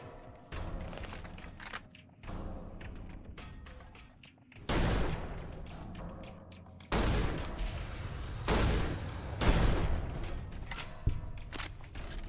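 Robots fire guns in Fallout New Vegas, heavy bursts of gunfire that come in several loud, sustained volleys over a steady rumble.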